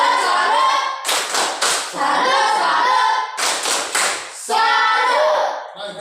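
A school class claps for a student, loud close hand claps in two dense bursts with brief pauses, rhythmic and hearty.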